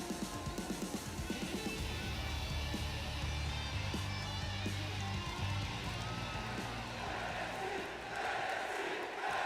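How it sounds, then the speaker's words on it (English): A WWE 2K wrestling video game arena crowd for an NXT tag team match, a broad, steady roar of cheering fans that swells and stays loud, faintly distant, with no talk over it. "Once again, you hear the crowd."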